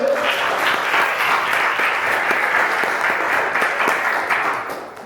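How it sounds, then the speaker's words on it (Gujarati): A church congregation at a Christmas service claps together in loud, dense, sustained applause for about five seconds, then it tapers off at the end. "તો જોરદાર ઈસુના નામથી આપણે એક તાળી પાડીએ."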